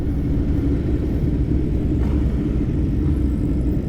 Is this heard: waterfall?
no